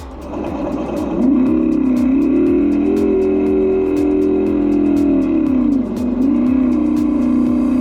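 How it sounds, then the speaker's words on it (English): Simulated motorcycle engine note from the speaker system of a Windhorse D1 electric bike, a steady synthetic drone that rises in pitch as it picks up speed and holds level, with a rhythmic ticking underneath and no talking. "It also comes with a speaker system where it can make itself sound like a motorcycle."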